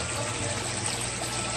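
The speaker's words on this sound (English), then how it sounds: "I wanted to pump through my filters and then have it pump up with a little bit of flow." Water from a pump trickling steadily through aquarium filters, a soft continuous wash of flowing water without pauses or voices.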